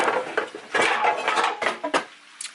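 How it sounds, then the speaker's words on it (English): Metal clatter and scraping of a lid being fitted onto a cooking pot on a stovetop, several loud clanks and rattles in a quick cluster, then settling. "We are going to put a top over it"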